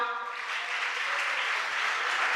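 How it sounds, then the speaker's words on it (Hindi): Steady, even applause from an audience honouring children at a Ram Katha gathering, a soft continuous patter of many hands at moderate distance, with a faint tonal voice-like hum at the start. "उनके सम्मान में तालियां बजाओ"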